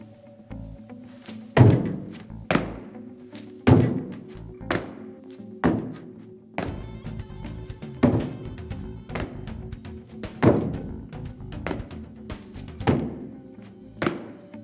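An athlete jumps off and back onto a plyometric box in a training session, producing about a dozen sharp, hollow thuds spaced roughly a second apart, close and clear in an otherwise quiet room.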